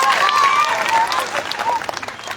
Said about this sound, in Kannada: ಆ ಚಾನಲ್ ಅವ್ರಿಗೊಮ್ಮೆ ಜೋರಾದ ಚಪ್ಪಾಳೆ ನೀವು ಸಮರ್ಪಣೆ ಮಾಡಿ